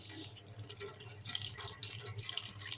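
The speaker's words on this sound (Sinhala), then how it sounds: "මේ විදිහට මිරික ගන්න ඕන හොඳට. වතුර පෙරා ගන්න ඕන." Water is wrung by hand from a mass of duckweed being prepared as chicken feed, giving a close, continuous run of dripping and trickling with no voices.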